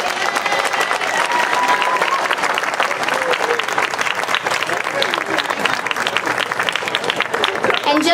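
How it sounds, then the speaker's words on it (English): A large audience at a House of Irelandt event gives a long, loud, continuous round of applause for the performers, dense clapping with crowd murmur mixed in. "if we could have one more big round of applause for all the performers"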